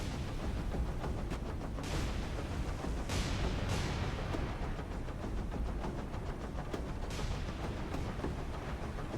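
Naval artillery shells firing in the War on the Sea video game, heard as a constant rumbling battle bed with repeated booming shots and blasts, moderately loud and with no talk.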